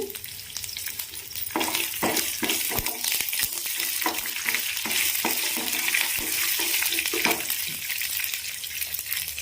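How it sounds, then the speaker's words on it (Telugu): Ridge gourd, moong dal, onion, garlic and green chillies sizzle and crackle in a hot pan, with a steady frying hiss broken by repeated scraping stirs and small clinks, close up and free of talk. "మనం ముందుగానే కట్ చేసుకున్న ఆనియన్ని, ఇవన్నీ కూడా మంచిగా కలర్ వచ్చేంత వరకు కూడా వేయించుకోవాలి"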